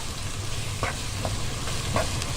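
Minced chicken sizzles steadily in a hot pan, a close, even frying hiss with a few soft stirring scrapes and no voices.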